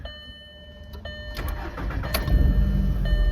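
A car engine cranks and catches after a camper's battery is fitted into it, settling into a rumbling idle that grows louder and steadier, heard up close with no talking.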